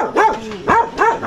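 A dog barks three times in quick succession, close and loud, with a whiny, yelping edge and short pauses between barks.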